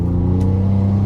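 A 2012 Ford Taurus SHO with a broken exhaust and deleted muffler rumbles steadily up close, its engine holding a deep, continuous drone with faint crackly burbles through a brief lift-off moment.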